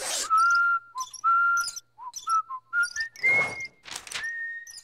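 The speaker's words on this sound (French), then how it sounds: "En sifflant un air de Mozart." Someone whistles a bright, lilting Mozart melody close by, phrases of sustained and gliding notes separated by short breaths, with a few soft knocks underneath.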